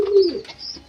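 Fancy pigeons give a single low, drawn-out coo inside a pigeon house cooled with straw, clear and close, with faint background rustle and no talk.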